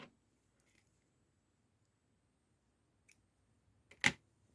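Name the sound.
scissors snipping off a yarn tail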